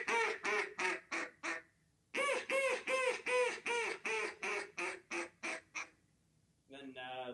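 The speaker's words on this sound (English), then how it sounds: "you're going to have a greeting call. That's just ducks saying, hey, I'm over here." A duck greeting call: a close, loud series of nasal quacks in two runs, the first short and the second longer with a falling cadence, then a quick raspy burst at the end.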